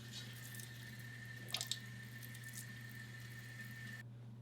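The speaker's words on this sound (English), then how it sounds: "And I like to kind of rinse off with a bit of water." Tap water running at a bathroom sink while lips are rinsed, a quiet steady stream with a couple of brief splashes near the middle before it cuts off.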